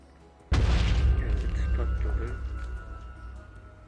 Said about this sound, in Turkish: bir patlama olacak birazdan